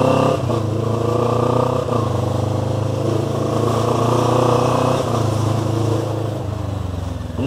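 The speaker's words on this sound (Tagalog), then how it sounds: "And this is my one and only motorcycle." A 2019 CF Moto 400NK motorcycle rides off, its engine droning loud and close, with several gear shifts breaking the steady pitch as it accelerates.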